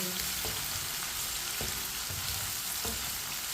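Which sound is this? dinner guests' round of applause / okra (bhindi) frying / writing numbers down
okra (bhindi) frying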